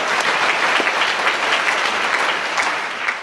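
A church congregation claps together in a full round of applause, loud and sustained, easing slightly toward the end.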